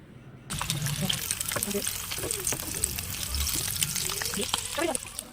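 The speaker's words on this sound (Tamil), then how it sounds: "ஸோ லோ ஃப்ளேம்லேயே வச்சு நல்லா ஃப்ரை பண்ணி எடுத்துக்கோங்க" Flour-coated chicken frying in oil over a low flame for homemade KFC-style chicken, a steady crackling sizzle running throughout with a few soft clinks and faint background voices.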